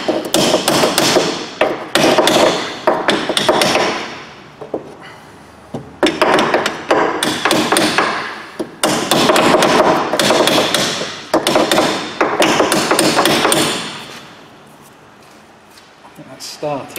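Repeated hammer blows drive parts onto a socket extension during front wheel bearing and inner drive shaft boot work on a Mini Cooper S, coming in loud, rapid bursts of metallic strikes separated by short pauses.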